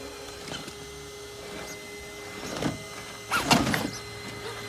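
An Axial SCX6 RC crawler with steering mods drives along, its electric motor and gears whining in short rising bursts, louder near the end.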